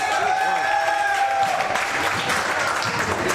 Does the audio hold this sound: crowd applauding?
yes